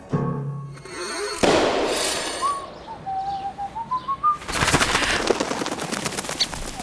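Birds, pigeons among them, call in a short run of whistled notes rising and falling, fairly clear and alone, between stretches of crackling, burst-like noise.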